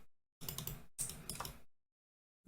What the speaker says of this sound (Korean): 0 누르고 엔터, Shift 누르고 이렇게 내려주는 거예요.